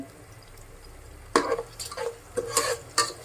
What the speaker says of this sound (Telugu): చిన్నగా కట్ చేసుకుని టమాటో వేసుకుందాము